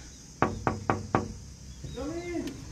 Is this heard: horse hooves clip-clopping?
no